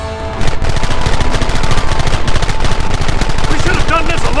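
Rapid gunfire from Red Dead Redemption, with loud overlapping shots and bursts rattling without pause, close and dense throughout, with shouting voices mixed underneath.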